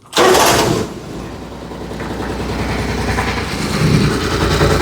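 A mini truck's engine cranks and catches with a loud burst, then runs roughly in an uneven, sputtering idle that wavers as if about to die, heard up close.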